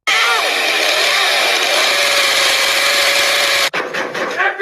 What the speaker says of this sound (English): I will use this chainsaw to cut off your forehead off.